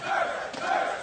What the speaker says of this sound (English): Sounds like Curse do have the local crowd supporting them.